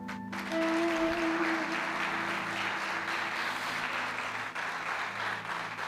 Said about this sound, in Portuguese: Pode se assentar dando uma salva de palmas.